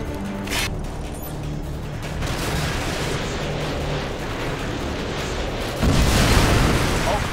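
AGM missile strikes in the video game Modern Warfare 2, a sustained roar of rumbling explosions and mechanical noise that swells louder near the end, with talk mixed in.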